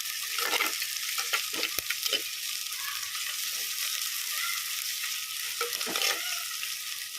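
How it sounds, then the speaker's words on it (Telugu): Onions, ginger and garlic frying in oil with curry leaves for a broccoli, potato and carrot curry, heard as a constant close sizzle broken by several clinks and scrapes of stirring, without talk. "ఉల్లిగడ్డ అల్లం ఎల్లిగడ్డ పచ్చి వాసన అంతా పోయిందాక మనం వేపుకోవాలి"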